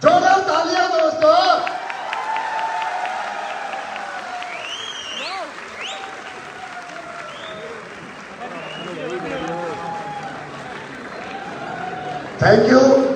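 A crowd at a Black Diamond celebration event in Jaipur claps loudly, mixed with whoops, chatter and music-like tones. The applause swells again sharply near the end.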